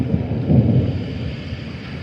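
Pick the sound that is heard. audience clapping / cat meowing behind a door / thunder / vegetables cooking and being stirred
thunder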